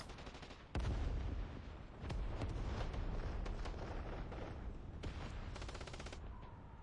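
Rocket launchers fire at a medium tank in a video game, giving loud bursts of blasts and explosions with rapid rattling impacts, then a long sustained roar of continued fire and detonations.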